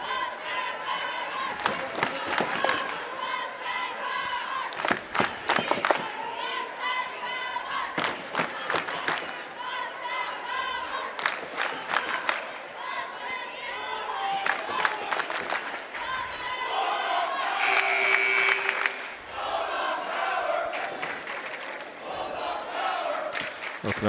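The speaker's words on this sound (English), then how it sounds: "quite the little cheering section" Okanogan fans cheer and yell at a high school league playoff basketball game against Lake Roosevelt, a lively crowd roaring in bursts with sharp shouts, whistles and squeaking sneakers, under an announcer's ongoing commentary.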